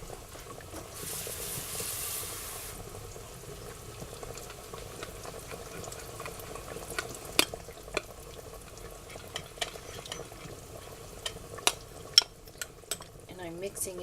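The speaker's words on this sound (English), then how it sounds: "And I'm mixing it in a bowl like this. It's called a slurry." A spoon stirs a slurry of flour, cream and water in a bowl, making soft, continuous scraping with scattered sharp clinks against the bowl that grow more frequent toward the end, close by.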